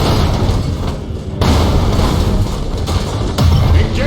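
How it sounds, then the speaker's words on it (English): Thunderhawk bombardment in a video game, a loud, continuous rumble of heavy explosions with several sharp booming impacts landing one after another. "Initiate Thunderhawk bombardment!"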